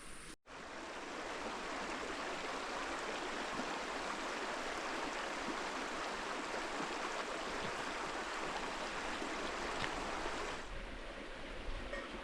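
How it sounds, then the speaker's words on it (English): Continuous rushing of stream water flowing nearby, a steady, even babble with no voices. "it's a very nice place to sit and watch the water go by"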